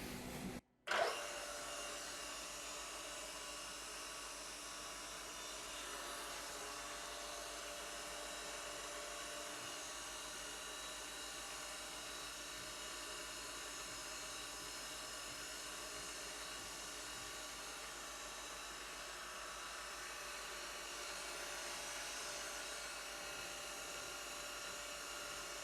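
Steady high-pitched whine of a diamond wheel grinding an ID grooving tool, running continuously and evenly after a brief cut at the start, with no talk.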